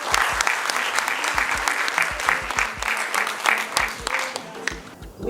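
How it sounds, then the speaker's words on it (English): Audience at an International Anti-Corruption Day event applauding a long-serving member of Parliament, steady, fairly loud clapping throughout with some crowd noise, easing slightly at the end. "I think that deserves a round of applause"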